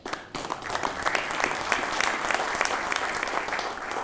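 Audience applause at an international conference on governance, ethics and development, greeting a Cuban delegate: dense, steady clapping from a large crowd filling the room for about four seconds at even loudness.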